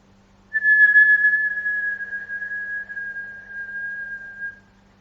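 One long, thin whistle of breath exhaled through pursed lips during a yoga breathing exercise, steady and sustained for about four seconds before trailing off in a quiet room.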